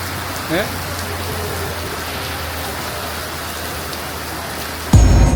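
Heavy rain falls in a steady, dense hiss on surfaces close by, drumming evenly throughout with one brief louder thump near the end.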